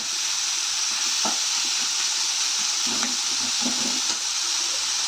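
Onions and tomatoes sizzle steadily in a pan while being stirred for a country chicken curry, a constant loud frying hiss with a few soft scrapes and knocks of the spoon.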